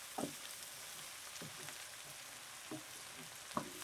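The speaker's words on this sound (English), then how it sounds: "We're just going to let this saute and cook down just a little bit more" Softened onions and garlic for a bacon jam saute quietly in a pan, a faint continuous sizzle broken by a few soft stirring knocks, with no voices.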